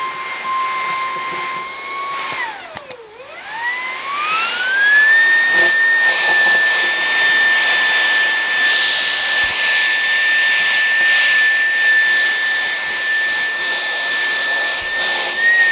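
A LEVOIT cordless vacuum cleaner with an attachment runs loudly and steadily nearby. Its whine dips sharply in pitch for a moment, then climbs back to a high, constant drone with airy suction noise.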